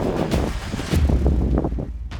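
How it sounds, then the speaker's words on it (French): Wind gusts buffet the microphone outdoors at an athletics competition in Egypt, a rough, low rumbling roar that surges and eases over a couple of seconds. "Le vent est présent."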